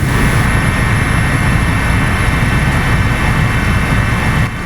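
A helicopter flying over a disaster area with collapsed bridges and lost houses, a steady loud roaring rumble of rotor and engine that holds unbroken throughout, close and heavy, with no talking.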